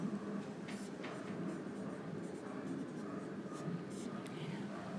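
Soft scratching of handwriting during a sociology lecture, a quick irregular scribble running under a woman's continuous speech at low volume.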